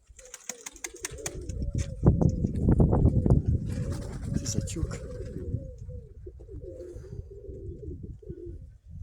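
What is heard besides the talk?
pigeons cooing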